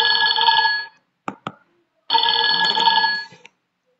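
An electric telephone bell rings loudly and close in two long metallic bursts, separated by a short pause with a couple of sharp clicks.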